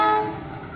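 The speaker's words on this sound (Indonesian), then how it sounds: "KLB kirim rangkaian gerbong datar melintas langsung jalur 1" A freight train hauling flat wagons passes on track 1 at an Indonesian rail line, with a brief, loud, tonal locomotive horn blast that fades quickly.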